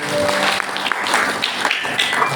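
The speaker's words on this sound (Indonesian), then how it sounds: "Tepuk tangan buat Tuhan Yesus." A church congregation claps together at a Sunday worship service, a short burst of dense, close applause lasting a couple of seconds.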